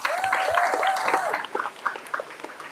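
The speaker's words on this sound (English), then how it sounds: "a huge round of applause to him." A crowd at the 4th Annual Mayor's Cup press conference at CP Between the Lakes gives scattered, moderately loud applause that trails off into sparse claps, following a brief moment of a voice speaking.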